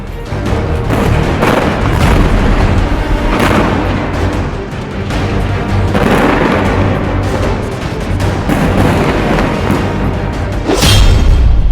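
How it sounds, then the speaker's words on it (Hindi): Israeli airstrikes on Gaza give a loud, continuous rumble of booming explosions, with repeated heavy blasts rolling together and a final close burst. "गाजा पर इजराइल के हवाई हमले।"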